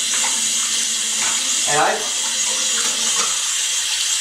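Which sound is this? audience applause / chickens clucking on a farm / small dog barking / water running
water running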